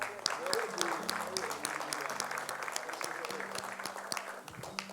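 Congregation applauding in church during a sermon, a steady wash of clapping with murmured voices and a few tonal sounds underneath.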